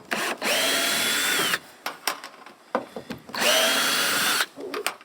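Power drill driving screws through a roofing panel on a chicken coop: two sustained, loud whirring bursts with rising pitch as each screw seats, separated by clattery handling and tapping sounds, close up.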